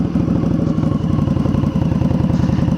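A Victory Octane V-twin motorcycle with an RPW full exhaust idles around 1250 rpm, giving a loud, close, lumpy potato-potato pulse with a steady uneven beat and no talking.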